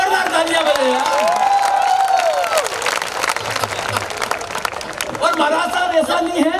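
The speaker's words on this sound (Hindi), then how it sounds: "महाराज साहब के लिए जोरदार तालियां बजाइए यार।" Loud, sustained clapping and cheering from a crowd at a Hindi poetry gathering during a Diwali fair in Udaipur, with a voice speaking over the applause throughout.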